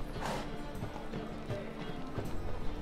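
Roach, a horse in The Witcher 3 video game, gallops with quick, uneven hoof clops at moderate loudness, a few sharper thuds standing out over a low steady background.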